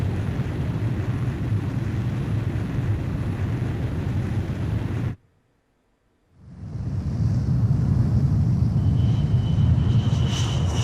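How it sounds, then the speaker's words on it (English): Jet fighter launching off an aircraft carrier catapult in Ace Combat: a loud, steady broadband engine roar cuts out for about a second, then returns with a thin high whine over it. "Aircraft launch confirmed."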